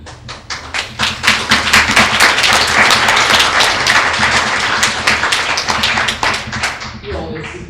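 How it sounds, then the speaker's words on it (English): A panel discussion audience breaks into loud, dense applause that builds, holds steady and then tapers off at the end. "You always seek for applause, and you always get it."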